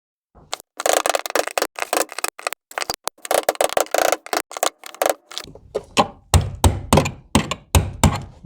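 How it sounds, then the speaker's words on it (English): Rust is knocked out of an old fuel pump part from a 1998-2000 Chevy Tahoe with a rapid, irregular series of sharp metallic raps and thunks, close and loud, turning heavier and more spaced toward the end. "Try to knock some of this rust out of here."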